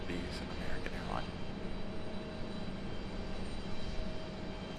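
Southwest airliner making a west side arrival at Raleigh-Durham airport: a continuous low jet rumble and whine, fairly distant and even, with faint murmuring voices in the background.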